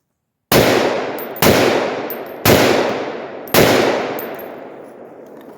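Four loud rifle gunshots from a Scar 17S or AR-10 fired outdoors, each a sharp crack followed by a long decaying echo, spaced about a second apart with no talking.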